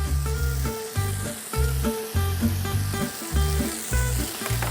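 Chopped garlic and vegetables sizzle and crackle steadily in a hot pan, with rhythmic background music playing throughout.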